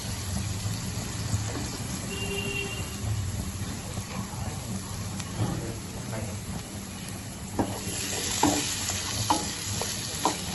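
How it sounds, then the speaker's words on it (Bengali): Malabar spinach stems and potatoes with green chillies are stir-fried in a pan, giving a continuous soft sizzle with repeated scraping and clinking of a spatula, plus a few sharper knocks toward the end. "আমি সব কষিয়ে নিচ্ছি।"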